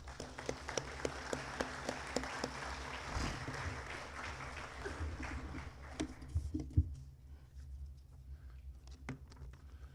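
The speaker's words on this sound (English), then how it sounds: "If you'd give them a round of applause." Applause at a high school football assembly, starting as a fairly full patter of clapping with a few sharp distinct claps, then thinning out into scattered, faint claps from a distance.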